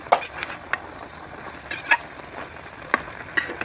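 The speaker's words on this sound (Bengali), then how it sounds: "এইভাবে নাড়তে নাড়তে আর একটু কষিয়ে নেব শাকটা" Leafy greens fry in a pan with a soft, steady sizzle while a spoon stirs and scrapes, giving a few sharp clinks and taps against the metal.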